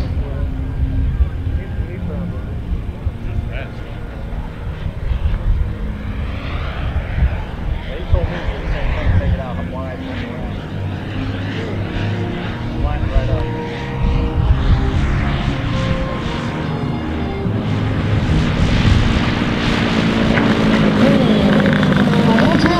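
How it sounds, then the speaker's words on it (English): A 36% scale RC Beechcraft T-34 Mentor model airplane flies overhead with flaps and gear down, its engine droning steadily and swelling louder toward the end, while a voice talks over it. "It's Beechcraft T-34 Mentor. Nice flight, Mike."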